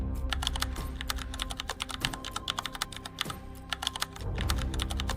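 Rapid clattering of keys on a computer keyboard, steady and close, with a low background hum and no voices.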